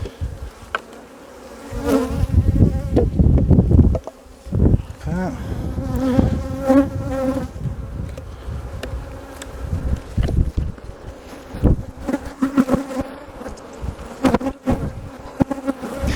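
Honeybees buzz close around a wooden hive on a blustery day, a dense, agitated drone that swells and fades as individual bees pass near, with bursts of wind buffeting underneath.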